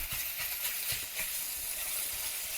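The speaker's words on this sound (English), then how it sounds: "I've started browning my sausage." Sausage browning in a pan gives a steady, close sizzle and hiss, with a few soft low bumps from stirring or shifting in the pan.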